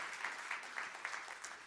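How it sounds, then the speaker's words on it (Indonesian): Congregation applause during a church revival service, a soft, steady wash of clapping heard from a distance with rhythmic swells, fairly quiet and without any talk over it. "Beri tepuk tangan buat Tuhan Yesus."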